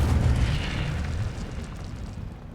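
Casting the Incendio fire spell in the Hogwarts Legacy video game releases a low, rumbling whoosh of flame that rises and then fades steadily over a couple of seconds.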